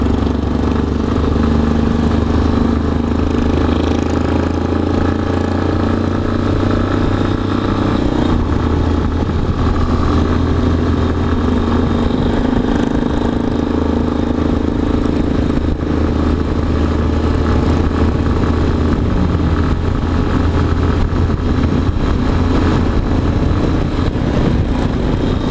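Motorcycles on a curvy road near Morungaba, Brazil, with a continuous loud engine drone and steady mid-pitched revving close by for the whole stretch, the tone shifting slightly as bikes work through bends.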